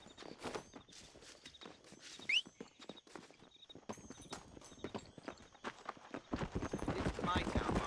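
Horse hooves clip-clopping in a Red Dead Redemption town scene, a steady run of hoofbeats mixed with game voices and shouting, growing louder and busier toward the end.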